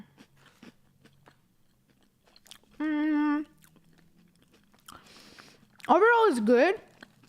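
Crunchy coffee-flavored European snack bitten and chewed at close range, with a few short crisp crunches and chewing bursts separated by quiet gaps and brief voiced sounds.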